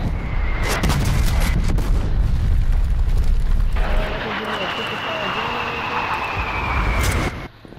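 Artillery strike explosions in Call of Duty Black Ops Cold War, heavy booms and rumbling blasts with aircraft-like roar, dense and loud throughout before cutting off sharply at the end.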